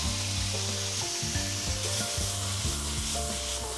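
Tomato and crab sizzling with softened garlic in a hot pan, a steady close fry with stirring scrapes and a low droning tone running underneath throughout.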